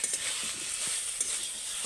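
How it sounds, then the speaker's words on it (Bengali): Raw banana is stir-fried in a pan, giving a moderate frying sizzle with a few light stirring scrapes and taps over about two seconds. "দেখো এটাকে ভালো করে কষিয়ে নিচ্ছি"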